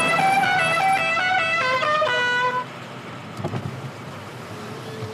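A car horn honks in a bright, tonal blast that holds for about two and a half seconds, followed by fainter street noise with a brief knock or bump.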